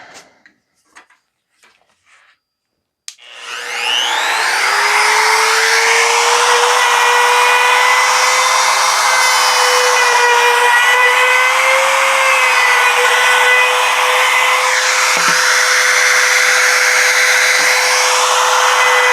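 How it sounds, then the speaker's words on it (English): A wood router cuts along one side of wine caddy boards, starting after a few faint knocks and then running as a loud, steady high-pitched whine with a constant motor tone for the rest of the clip, with no talking. "I'm going to router one side"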